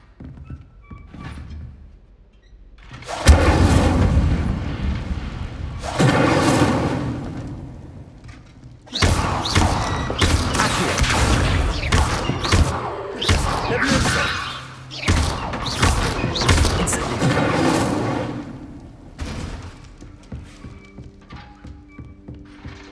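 Incendio fire spell cast in Hogwarts Legacy, a series of whooshing, thudding bursts of flame that come in several loud clusters with brief gaps, close and prominent, with some speech mixed in.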